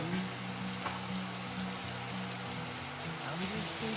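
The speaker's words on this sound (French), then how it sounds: "on va faire colorer les oignons" Onions frying in a pan with garlic, thyme and cloves, giving a steady, close, crackling sizzle that fills the whole stretch, with a low hum underneath.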